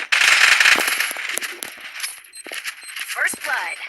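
Gunfire in a battle royale video game, rapid crackling bursts of shots, loud at first and then in scattered, uneven volleys, with a brief voice near the end.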